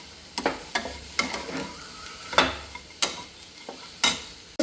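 A spoon stirs and mixes grated coconut in a frying pan, giving a series of sharp scraping strokes at an irregular rhythm over a faint sizzle, close by with no talking.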